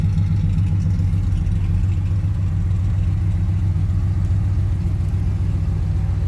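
Exhaust of a 1977 Airstream Argosy motorhome with a stroker 454/496 Chevy big-block V8, a deep, throaty, steady idle rumble heard close and loud throughout, with no voices.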